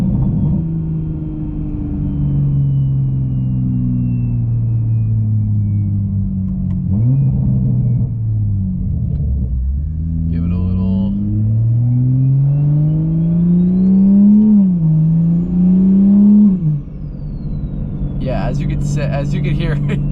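A Toyota Supra fitted with a T51R mod drives and downshifts. Its loud, close engine rumble climbs and dips through repeated rev blips, then settles to a steady drone.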